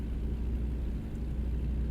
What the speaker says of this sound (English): This cat engine's a little bit loud.